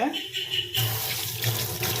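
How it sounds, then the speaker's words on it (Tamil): Water runs steadily from a tap into a sink while cooking prawn curry, a continuous splashing hiss that grows fuller after the first moment and keeps pouring without pause. "தண்ணி ஊற்றிக்கலாம்."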